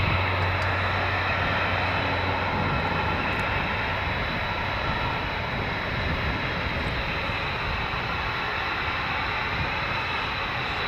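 A C-130 tanker flies very high overhead near Lakenheath and Mildenhall, a faint steady distant engine drone filling the whole stretch with no voices.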